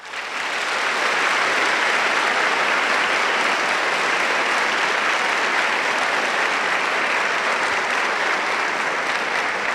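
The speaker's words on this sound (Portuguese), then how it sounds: "que merece uma salva de palmas" Loud, dense applause from a church audience honoring a bishop, a continuous wash of many hands clapping that swells in within the first second and holds steady for nearly ten seconds.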